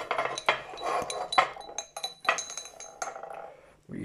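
Glass globe of a 1973 Tilley X-246-B storm lantern clinking and rattling as it is handled, a series of close, bright chinks and knocks at irregular intervals with small scraping sounds between.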